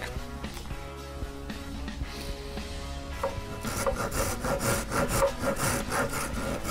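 A rasp files wood during construction of a Drakkar Viking ship model, giving steady rough strokes, softer at first and then louder and brighter with a rapid scraping rhythm in the second half.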